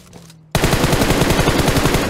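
After a quiet moment, a loud burst of rapid automatic gunfire erupts in PUBG Mobile, an M416 rifle firing close and sustained in a fast, even rhythm to the end.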